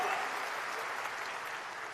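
Dense, steady applause from a large audience at a public event for a state chief minister, a continuous wash of many hands clapping without pause and no voices on top.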